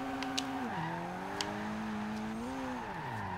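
Turbocharged Toyota MR2 SW20 engine in the racing game Forza Horizon 2, a steady droning mid-engine tone that dips and climbs through gear changes, heard alone at moderate level with faint turbo hiss.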